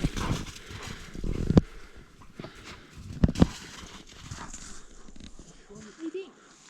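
Horses at an outdoor horseback wedding, with occasional hoof clops and stamping heard under steady nearby conversation among the gathered people.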